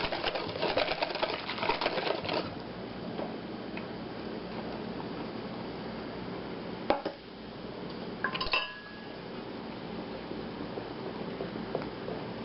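A wooden spoon stirs flour into Swedish tea ring dough in a bowl, giving a busy, rhythmic scraping and tapping for the first couple of seconds, then a softer, steady stirring broken by two sharp knocks.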